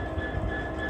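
Class 66 diesel locomotive 66057 in EWS livery on the Settle and Carlisle line at Hellifield, a steady close rumble with a low engine drone and a faint high tone throughout.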